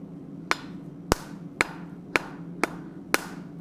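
Hammer blows ring out on hot metal at an anvil during blacksmith forging, six sharp evenly spaced strikes about half a second apart over a steady low hum.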